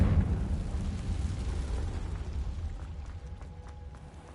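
A Confringo blast spell goes off in the video game Hogwarts Legacy, a deep rumbling boom that starts loud and fades slowly into a low, noisy tail.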